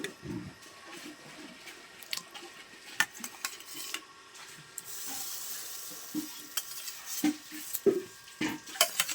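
Fried potatoes go into a simmering tilapia fish curry, bringing a quiet bubbling sizzle broken by sharp clinks and scrapes of a spoon against the pot, irregular and close.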